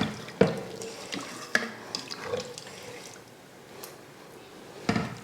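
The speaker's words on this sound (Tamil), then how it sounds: "இப்போ இதில் நம்ம தண்ணி சேர்த்துருவோம்." Water is poured into a pan of vegetable masala for a veg biryani, with a few sharp clanks and splashes against a low running-water wash, close and fairly loud.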